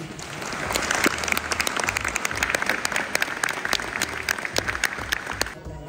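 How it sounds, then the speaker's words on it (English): New citizens at an Australian citizenship ceremony clap for themselves, a lively mix of individual sharp claps over a crowd wash that stops abruptly near the end. "Please give yourselves a very big clap."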